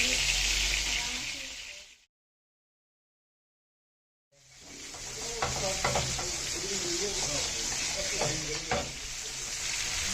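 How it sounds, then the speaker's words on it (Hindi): Eggplant pieces sizzle in hot oil alongside potatoes, a steady close frying hiss with stirring scrapes, broken by a roughly two-second silent dropout before the sizzle resumes. "हम बैगन को आलू में चारों तरफ से हल्का हल्का सा फ्राई कर लेना है।"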